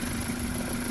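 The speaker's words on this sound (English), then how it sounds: "That's an idle." A 2004 Dodge Neon SXT with a 2.0-liter engine idles steadily and smoothly up close after a transmission mount replacement, a constant even hum with no variation over a brief moment.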